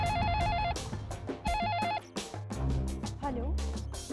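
A telephone ringing in a household scene from a Hindi TV serial, a repeated electronic ring in short bursts broken by gaps, mixed with dramatic music and voices.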